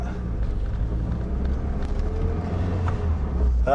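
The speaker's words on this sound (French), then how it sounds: "je fais bien vrombir la voiture" A car from the 2000s revs steadily during a hill start without the handbrake, its close, loud low engine rumble holding throughout with a slight swell near the end.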